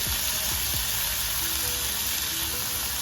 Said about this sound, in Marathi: तर आपण ह्याच्यात आता टाकणार आहे भाजायला व्यवस्थित टमाटरची मस्त गिरवी बनवून घ्यायची